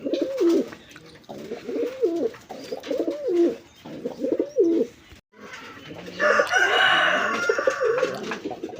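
Agitated Mayna jhak pigeon calling up close, a series of repeated loud cooing phrases with short gaps, followed by a rougher, denser stretch of calls.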